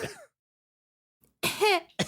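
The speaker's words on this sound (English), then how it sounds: "the little gnome cough that he sometimes puts" A single raspy, throaty cartoon gnome cough, voiced by a person, after a pause of silence, with a short voice fragment at the start and a brief sound at the end.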